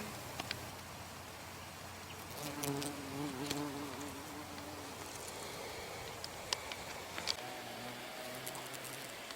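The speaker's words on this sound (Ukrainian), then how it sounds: "Це бджола столяр. Це найбільша та найдревніша із наших бджіл." A carpenter bee buzzes close by among flowers, its droning hum rising and falling as it moves, with faint outdoor background noise.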